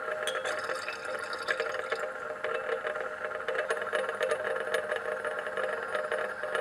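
Ten millilitres of water trickle into a laboratory flask holding white precipitate, producing a quiet, continuous pouring patter with light glassy rattles, close and alone.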